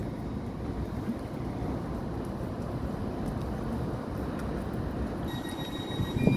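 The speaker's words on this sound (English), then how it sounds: "now departing we have a service, I believe it's from Swansea, but anyway, it's going out to London Paddington now" A passenger train leaves Newport station in South Wales, bound for London Paddington: a continuous low rumble of rolling wagons, heard close and steady, with a faint wheel squeal near the end.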